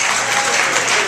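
A comedy club audience bursts into applause, a dense wash of clapping hands filling the room, loud and steady for a brief moment.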